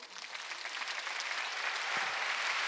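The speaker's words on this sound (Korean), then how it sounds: "하나님께 박수겠습니다." A church congregation applauds during a Sunday worship service, a steady dense clapping that fills the room from start to end with no talking over it.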